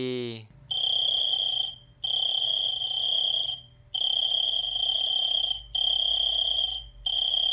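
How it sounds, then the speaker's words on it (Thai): A loud, high electronic-sounding chirp repeats in long even bursts with short pauses between, steady and close, like a cricket's trill. "ผมเสียงที่ได้ยินเมื่อกี้นี้ก็คือเสียงของจิ้งหรีด"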